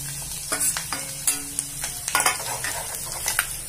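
Crushed garlic and coconut slices fry in hot oil in a pan for Khandeshi brinjal bharit, a crackling sizzle broken by bursts of stirring and metal clinks against the pan, close and alone.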